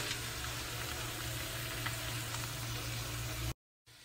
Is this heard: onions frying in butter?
yes